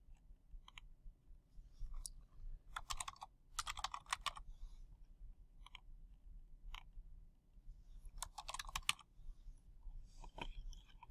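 Soft typing on a computer keyboard, scattered bursts of quick key clicks separated by short pauses, faint and close against a quiet low background hum.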